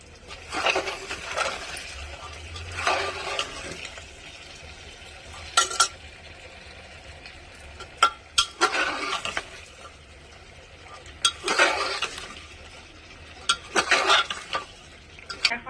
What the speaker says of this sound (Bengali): আর এই যে মাংস বসানো হচ্ছে